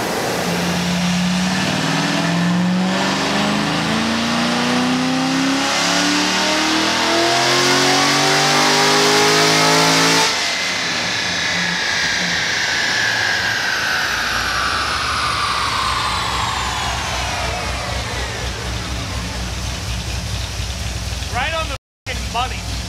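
A car engine fitted with a cam package revving hard at full throttle, a loud climbing roar that cuts off abruptly midway, then a long falling whine as it winds down.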